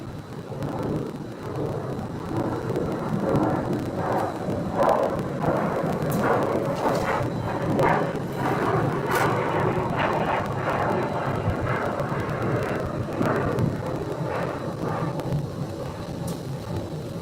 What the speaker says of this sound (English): that little plane behind them is Denver Air Connection